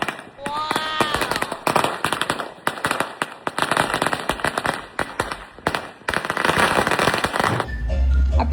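New Year fireworks and firecrackers explode in rapid, dense volleys of loud cracks and bangs, with whistling rockets near the start and a continuous crackle throughout.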